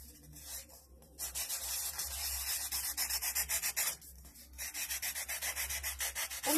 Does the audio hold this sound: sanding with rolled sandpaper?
yes